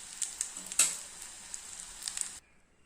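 Achu murukku batter, dipped on its mould, fries in hot oil with a steady close sizzle and a few sharper crackling pops before the sound cuts off abruptly.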